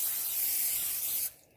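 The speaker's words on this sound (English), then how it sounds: "Let's add a little bit of cooking spray into our pan." Cooking spray hisses from a can into a pan in one short, close burst of about a second, then cuts off sharply.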